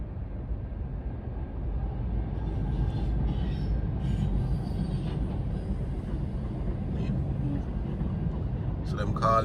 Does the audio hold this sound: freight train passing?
yes